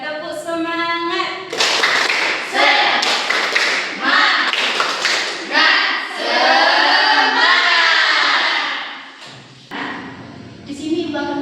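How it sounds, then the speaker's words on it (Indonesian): An elementary class standing for a tepuk semangat spirit-clap routine produces loud, rhythmic bursts of hand clapping in patterned groups, with children's voices chanting along and a brief pause near the end. "Kita mulai 1, 2, 3, tepuk semangat."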